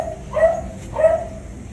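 A 10-month-old exotic bully show dog gives two loud, close barks about half a second apart, alone against quiet background hiss.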